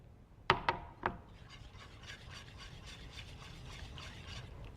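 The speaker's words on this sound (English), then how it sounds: "add it a handful at a time, whisk it in there" Shredded Swiss cheese whisked into a pot of cheese soup: a few sharp clinks of the whisk against the pot, then a steady soft scraping and stirring rasp, fairly close and without talk.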